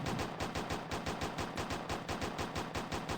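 Rapid automatic gunfire in the blocky game Uni Craft Your World, a fast even stream of sharp shots repeating about eight times a second without pause.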